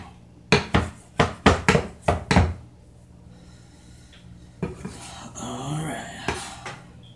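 A dull kitchen knife slicing through vegetables on a board, seven or so evenly spaced chopping thuds in quick rhythm, then quieter shuffling and clatter with a faint voice.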